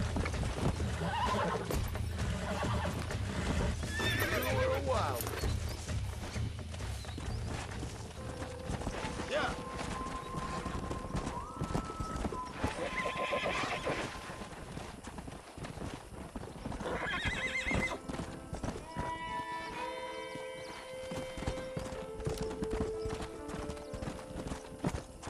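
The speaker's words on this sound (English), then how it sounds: "We got some fine horses." Horses in the video game Red Dead Redemption whinny and neigh while hooves clop in a continuous, close, busy rhythm, layered with in-game ambience and voices.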